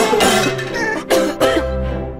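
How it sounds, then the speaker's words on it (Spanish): Harsh coughing, several sharp bursts in quick succession from someone close by, loud and alone, as part of a cold-season radio ad. "El invierno llegó"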